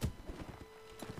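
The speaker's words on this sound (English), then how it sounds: "There's a guy on a horse attacking me." Horse hooves of a mounted rider charging to attack during a siege in the Mount and Blade Warband video game, a quick run of soft clip-clop thuds, fairly faint and close.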